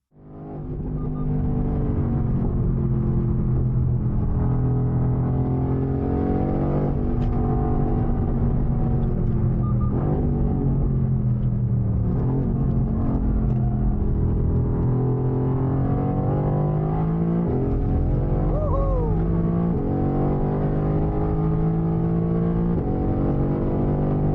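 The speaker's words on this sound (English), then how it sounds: "he's driving a Mercedes AMG GTR, which looks like this, and is a high-performance vehicle. He's also on a track." Mercedes AMG GTR high-performance car driving on a track, a steady loud engine drone with rising and falling pitch as it accelerates and shifts, continuous throughout with no talk.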